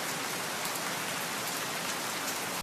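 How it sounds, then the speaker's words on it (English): Heavy rain pours down in a dense, even hiss of countless drops striking surfaces, loud and unbroken from start to finish with no voices. "The moment of the heavy rain is really short, so you have to catch that moment."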